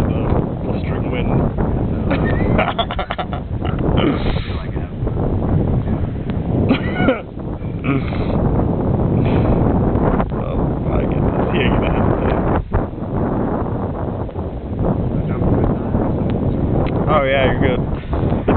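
Blustering wind buffeting the microphone outdoors by the water, a loud continuous rumbling roar with gusty swells, while people talk intermittently underneath.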